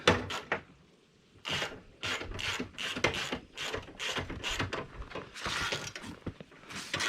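Ratchet wrench tightening bolts while installing a trip trunk on a 2007 Yamaha Road Star motorcycle, heard as rapid repeated clicking bursts up close, with short pauses between strokes.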